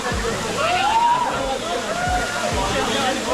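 Water pouring and sloshing at Dhokaney Waterfall in Uttarakhand, a loud, continuous rush close by, with faint voices and whistle-like tones over it.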